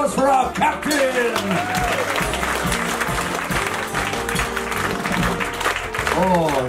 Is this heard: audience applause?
yes